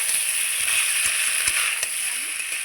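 Potato and raw banana pieces frying with masala in a pan, a steady hissing sizzle with a few soft knocks of a spoon against the pan.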